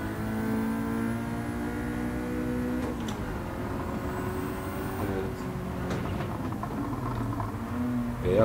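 Ford Sierra Cosworth RS 500 on the Atlanta track in Gran Turismo 7, its engine droning steadily with rising and falling pitch through gear changes, close and continuous, with faint talk underneath.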